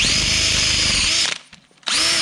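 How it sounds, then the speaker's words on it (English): Power drill spinning an old VW Beetle top mount adapted onto its chuck to wind down a coilover ring, a loud, close, steady high whine that stops abruptly, pauses about half a second, then starts again. "we've adapted the old top mount on drill"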